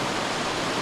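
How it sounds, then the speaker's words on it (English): A waterfall in the Alaskan backcountry, reached on an off-road trip, pours as a steady, dense roar of rushing water, loud and continuous with no voices over it. "waterfall over there."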